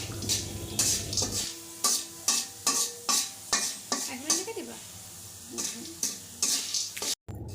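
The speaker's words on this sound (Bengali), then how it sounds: "এই যে ফাটা শুরু করবে আস্তে আস্তে, যে একটা দুইটা করে ফুটা শুরু করছে" Corn kernels frying in hot oil in a pan, stirred with a utensil in a steady series of scraping strokes over a soft sizzle, close and fairly loud with no voice.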